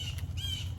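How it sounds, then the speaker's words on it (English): A bird squawks nearby outdoors in a fall vegetable garden, two short harsh calls in under a second over a low background hum. "I have that bird that's interrupting my video"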